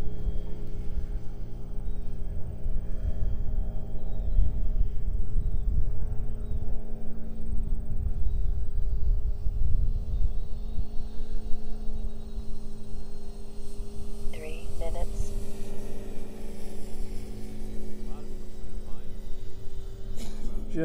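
A 670 kV electric motor spinning a 16-inch prop on a 4-cell battery drives an RC Fokker D.VI model plane at half throttle, giving a steady, continuous hum and buzz that holds throughout with no voices.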